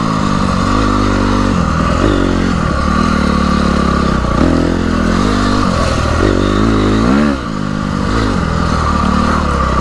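A motorcycle ridden on dirt trails, its engine droning loud and close throughout with shifting throttle and rhythmic surges, plus occasional clatter from the rough ground.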